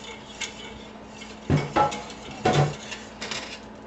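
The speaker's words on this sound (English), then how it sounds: "Continue to stir." A spoon stirs a milk mixture in a metal pot. It scrapes and clinks against the sides in a few irregular bursts over a quiet background.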